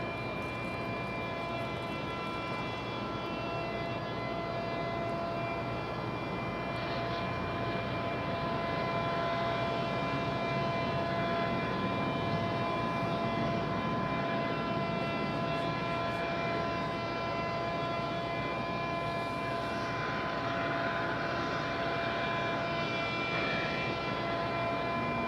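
Aircraft arriving at Raleigh-Durham International Airport, heard from a parking garage as a steady, distant engine roar and broadband rumble holding evenly throughout, with no talk.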